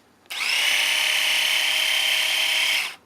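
A second Philips electric shaver switches on with a sudden start and holds a steady, bright, somewhat louder motor whine for under three seconds before being switched off. Nothing else is audible.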